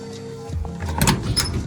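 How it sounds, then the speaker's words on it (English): The door of a 1970 Ford F250 prerunner barn-find truck opens, giving a short metallic clunk and latch rattle close by, with no talk. "That door opened again, sweet."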